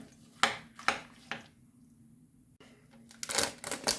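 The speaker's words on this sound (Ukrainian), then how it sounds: "Все гарненько зараз перемішаю" A spoon clinks and scrapes against a bowl while pancake filling with raisins is stirred, giving a few sharp knocks early on, a quiet pause, then a quicker cluster of close clatters.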